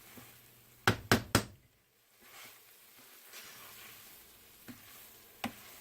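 A knife cuts prosciutto on a cutting board, giving three sharp, close knocks in quick succession. A faint pan sizzle continues in the background, followed by a few softer taps.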